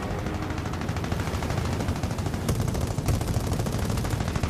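Rifle-caliber machine guns on a fighter plane fire in a video game, a dense, continuous rattling burst from many guns that runs the whole time with no gaps, loud and close, with no voices.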